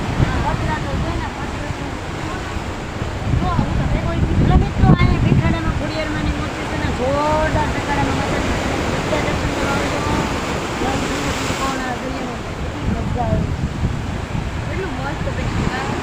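Sea waves wash continuously with wind buffeting the microphone, and people talk over the surf near a temple.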